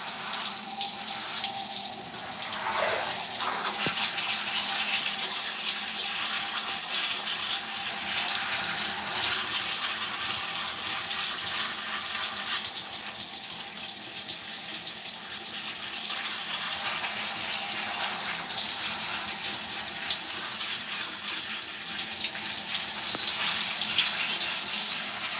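A steady stream of water runs continuously from a tap during a wash-day hair rinse, a constant close gushing splash with no talk over it.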